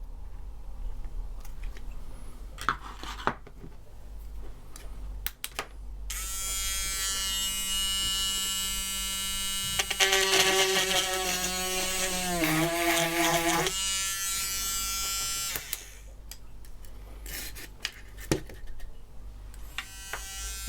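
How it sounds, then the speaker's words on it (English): A small USB mini drill whirs steadily in a high, buzzing whine for several seconds while drilling holes in model railway track sleepers, its pitch wavering and dipping as it bites into material, with quieter mechanical noise around it. "I've used the drill mainly for creating holes in sleepers for track pins"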